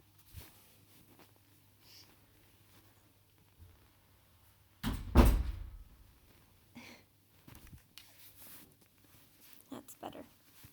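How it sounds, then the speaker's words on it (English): An indoor door is pulled shut with one loud thud and a brief rattle, followed by a quiet room with faint small sounds. "I'm just going to close the door."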